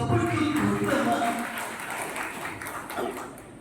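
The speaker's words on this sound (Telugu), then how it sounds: "వాళ్ళకి గట్టిగా చప్పట్లు కొడతామా?" An audience applauds after a children's dance at a stage event, with broadband clapping running throughout and a voice speaking early on, the applause tapering slightly toward the end.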